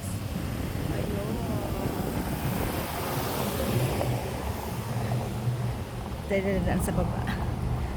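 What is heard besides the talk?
strong wind blowing outdoors in Dubai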